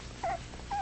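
A four-week-old puppy whimpering close by, two short high whines with a pause between them over a faint background hiss.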